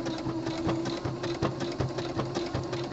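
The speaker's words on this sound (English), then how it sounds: "Sew a little bit." A sewing machine stitching a jock pouch onto a sport brief runs steadily and close up, with a continuous mechanical whir and no voices.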